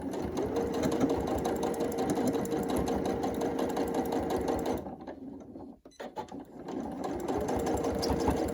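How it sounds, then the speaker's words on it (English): A sewing machine stitches elastic down with a 1/4 inch seam allowance on a pin cushion, running steadily and close, pausing briefly midway before resuming its rapid hum. "we're going to sew across, sewing that down using a 1/4 inch seam allowance"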